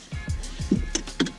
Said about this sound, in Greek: Αλλά πρώτα απ' όλα να βάλουμε τη ζώνη ασφαλείας.